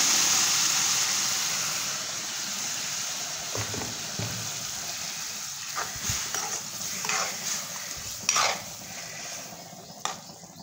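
Cooked vegetables for pav bhaji tipped into a hot pan of spiced masala: a hissing sizzle that fades gradually, followed by scattered soft plops, scrapes and light utensil knocks, heard close with no voices.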